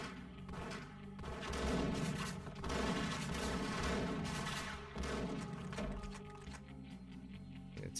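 Sustained bursts of enemy gunfire in the video game Max Payne, loud and dense with overlapping shots and rumbling impacts across the whole span, no talking.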